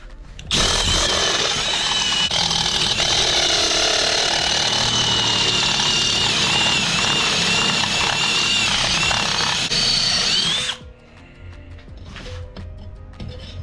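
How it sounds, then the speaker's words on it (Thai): A PUMA PM-245BL 20 V cordless drill fitted with a step drill bit widens a hole through 2 mm thick material, a loud steady whining grind that runs for about ten seconds before cutting off, leaving quieter handling noise. "นี้เดี๋ยวเราจะเพิ่มสเต็ปเขาให้กว้างขึ้น"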